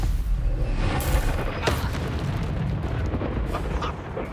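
A Confringo blasting spell explodes during a Hogwarts Legacy battle, a loud booming burst with a sharp crack near the start, rolling into a dense, rumbling roar that persists throughout.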